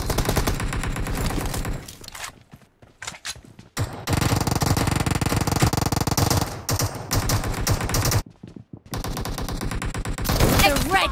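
Rapid automatic gunfire from a gun game match on the Hanger map, loud, dense bursts with brief gaps and mixed weapon shots, plus faint voice and game sounds in the background.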